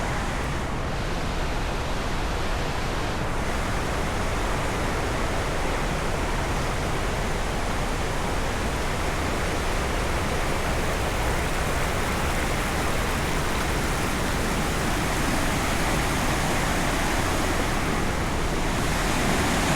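Roaring wall of rushing water from the Lower Falls in the Laurel Highlands, loud and steady throughout, dense broadband noise like a nearby waterfall with no voices.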